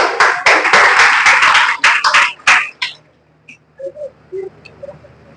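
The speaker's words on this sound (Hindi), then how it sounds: "एक बार जोरदार तालियां गिरिराज के लिए" An audience gives a student a burst of applause at a school prize ceremony, dense and fairly loud for about three seconds before breaking into a few scattered claps and falling quiet.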